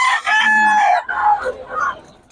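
A White Kelso rooster crows once, loud and close, a long strained cock-a-doodle-doo that trails off into a rougher tail, with no talk over it.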